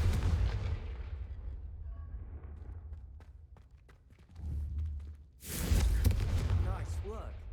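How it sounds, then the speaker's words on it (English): A Confringo fire spell cast in the video game Hogwarts Legacy, a deep rumbling whoosh that fades, then a second louder fiery blast near the end with a low boom. "a Confringo cast travels a bit farther than that of a spell like Incendio"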